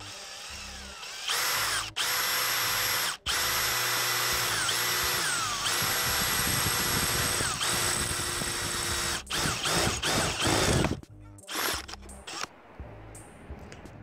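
A power drill with a Wolfcraft metal bit, about 6.5 mm, cuts another hole in a 2 mm-walled rectangular steel tube. The whine is loud and close, with sustained runs broken by brief pauses before tapering into stuttering bursts.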